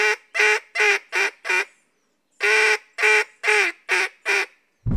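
A hand-blown duck call gives quacking notes that open out as the cupped hand releases on each one: a descending run of five, a pause, then another five, loud and close.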